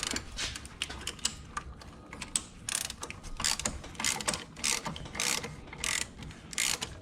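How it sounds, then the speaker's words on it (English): Ratchet wrench clicking in quick bursts on an engine mount bolt of a 2004 VW Golf 2.0, the strokes close and fairly loud with short pauses between runs. "this bolt is a lot easier to turn than before"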